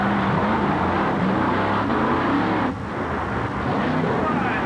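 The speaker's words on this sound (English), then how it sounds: "A close race right down to the finish line, but the Ford Bigfoot takes the checkered flag." A Ford Bigfoot monster truck races to the finish at a 1987 Cleveland event, heard as a continuous loud engine roar mixed with broad crowd and arena noise, steady and dense with one brief dip.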